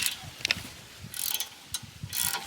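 A ratchet loosens brake caliper bracket bolts outdoors in the woods, giving several short bursts of rapid clicking separated by brief pauses, moderately close and with no talking.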